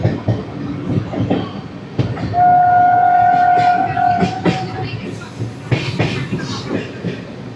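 The 12650 Karnataka Sampark Kranti sleeper class train runs loudly with rumbling and clattering wheels, and a horn sounds for about two seconds midway.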